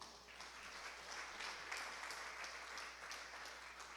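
A church congregation applauds, steady, dense clapping heard at a low, distant level for a few seconds without talk.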